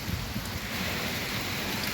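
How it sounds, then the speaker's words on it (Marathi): Heavy monsoon downpour near Londa Junction, heard from inside a moving train: a dense, steady roar of rain drumming on surfaces, loud and unbroken with no voices. "बघू शकता काय जोरदार मुसळधार पाऊस सुरू झालेला आहे या ठिकाणी"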